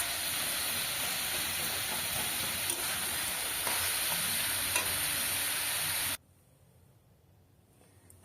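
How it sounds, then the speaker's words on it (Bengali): Potato greens fry softly in a pan, giving a steady close sizzle and hiss for about six seconds before cutting off abruptly to near silence. "আলু শাকটা দেখো বেশ একদম নরম হয়ে এসছে, ভালো ভাজা ভাজাও হয়ে এসছে।"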